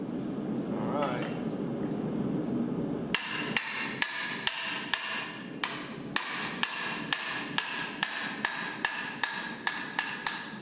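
A hammer strikes a hot steel bar clamped in a vise during blacksmith fold forming, a steady series of sharp, ringing metallic taps at a regular rhythm after a short stretch of low background noise.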